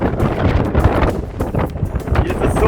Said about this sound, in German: Hier ist es so windig, ich muss mein Handy mit beiden Händen festhalten, sonst fliegt es weg.